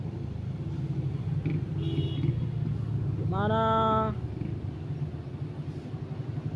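Laden palm oil truck laboring up a steep hill, its engine a deep uneven rumble that swells into a strained, rising whine midway, then sags back, heard close with a brief voice speaking over it.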